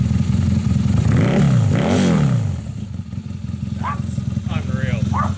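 A Honda CB250 motorcycle engine idles close by with a steady, rumbling low pulse throughout, while a person talks over the first half.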